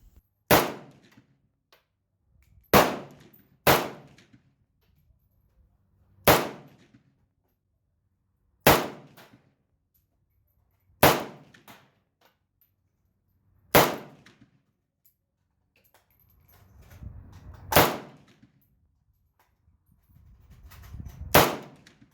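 Romanian MD 63 rifle fired at a range, sounding as nine sharp, loud, separate shots spaced irregularly a few seconds apart, each with a short decaying tail and faint background noise between.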